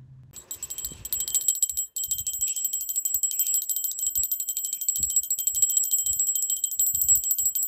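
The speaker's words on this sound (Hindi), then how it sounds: "ये मेरा बेटा है जो पीछे से बजा रहा है घंटी" A child rings a small brass puja hand bell at a home Teej worship, a rapid continuous high-pitched jingling that carries steadily throughout with faint soft knocks and bumps underneath.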